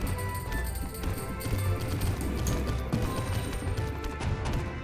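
Horse hooves clip-clopping in the Overdungeon video game, a busy run of rhythmic clattering steps layered with other game effects and clanks, moderately loud.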